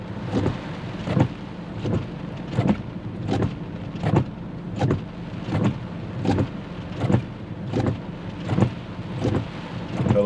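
Hurricane Sally's wind and rain lash Gulf Shores, Alabama, in a rough roar with rhythmic gusting surges about once a second, heavy and close, with no voices.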